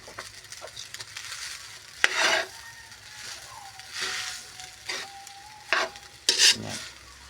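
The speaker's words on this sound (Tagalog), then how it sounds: "Malapit nang maluto ang fried rice mais." Fried corn rice cooking in a pan, with scraping and stirring sounds in bursts and a soft sizzle beneath, plus a faint whistle-like tone in the middle.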